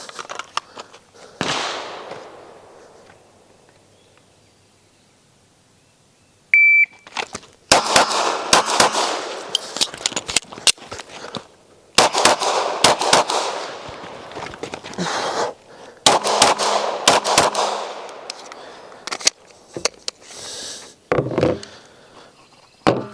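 Gunfire at an outdoor shooting range: sharp, loud shots fired in rapid strings and clusters, separated by brief pauses and a quieter stretch, with ringing impact noise between volleys.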